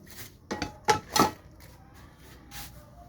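A few sharp clanks of cooking pots and dishes, three close knocks in quick succession and then a softer one, with quiet between them.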